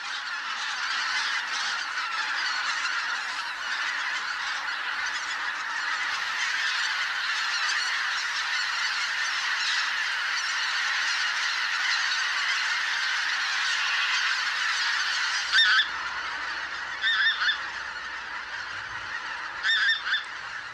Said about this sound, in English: thousands of bean geese and greater white-fronted geese descend on the Morava's banks